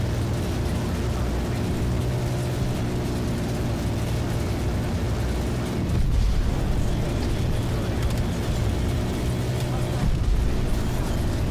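Explosions from a chopper gunner killstreak in Black Ops Cold War on the Nuketown '84 map, rolling blasts and rumbling bursts layered over continuous dense gunfire and engine noise, loud and sustained with a sharper surge midway.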